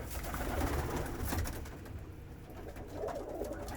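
Pigeons coo in a loft during morning feeding, soft throaty calls overlapping close by against a busy background of rustling and movement.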